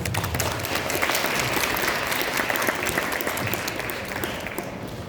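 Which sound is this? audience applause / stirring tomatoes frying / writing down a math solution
audience applause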